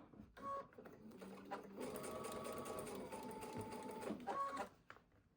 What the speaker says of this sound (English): Sewing slowly as we go.